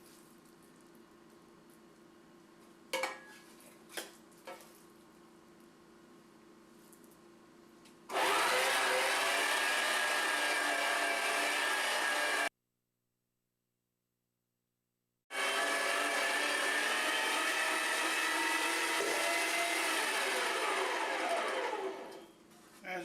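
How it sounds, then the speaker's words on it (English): An electric meat grinder grinding chicken runs loud and steady for several seconds, stops briefly, then starts again and runs on; faint clicks and handling noises come before. "Got my foot switch on my grinder."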